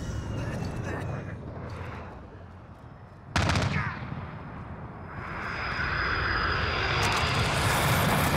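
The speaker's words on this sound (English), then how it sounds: "Friendly VTOL jet on station." A friendly VTOL jet roars overhead in Call of Duty Modern Warfare multiplayer, a loud rushing engine swelling after a sharp burst, with gunfire and battle noise around it.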